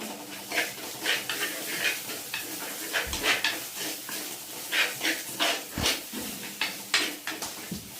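Garlic and ginger sauté in a pan with salt, a soft continuous sizzle broken by repeated scraping and clinking of a utensil against the pan, close and fairly loud, no talking.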